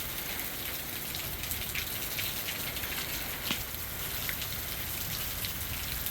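Hail falls during Hurricane Milton as a dense, steady patter of small hard hits on the road and surfaces, with no voices.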